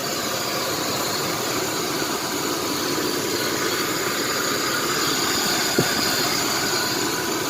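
A 1993 Chevy S10 Blazer 4x4 with a Vortec 4.3 engine idling steadily and evenly, a close, continuous hum with no misfire and one brief click near the end.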